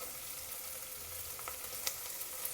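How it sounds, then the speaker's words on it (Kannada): Green peas dropped into hot oil tempering in a pan, a steady soft sizzle and hiss throughout with a couple of faint clinks, quiet and close. "ನಾನಿಲ್ಲಿ ಫಸ್ಟಿಗೆ ಇವು ಏನು ಬಟಾಣಿಗಳು ಹಾಕ್ತಾಯಿದ್ದೀನಿ"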